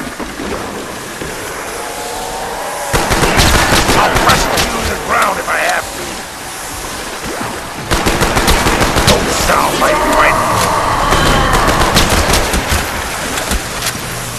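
Rapid automatic gunfire rattles in loud, dense bursts in Call of Duty: Black Ops Zombies, Call of the Dead map, with brief lulls between volleys over constant background noise.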